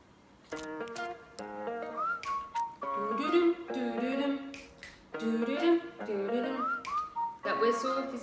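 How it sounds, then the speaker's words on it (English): A pop track plays, with a melodic whistle line and vocals over a steady beat, and the whistled phrases recur across the passage. "That whistle, this little sound."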